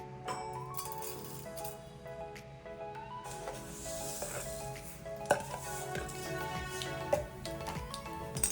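Tempering spices crackle and sizzle in hot oil in a pan, with a steady busy hiss and occasional louder pops and metal clinks of stirring, close and moderately loud, with no voices.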